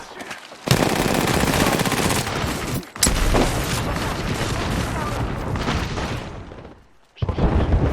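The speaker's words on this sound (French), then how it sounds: "Attention. On me tire dessus." Sustained automatic gunfire in a shooter video game, loud, dense bursts that run almost unbroken for several seconds, stop briefly, then resume close up.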